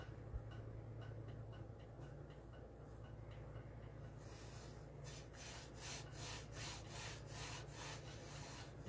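A wooden board for fall hanging pumpkin and sunflower decor being hand sawn, quiet at first, then a run of rhythmic rasping strokes roughly twice a second in the second half, close and fairly soft, with no speech.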